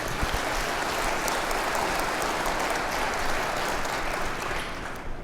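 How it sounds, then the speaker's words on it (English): An audience at a plenary session on innovation and equitable transportation claps in dense, sustained applause that stays loud and even for about five seconds, then tapers slightly at the end. "Please give them a round of applause for joining us."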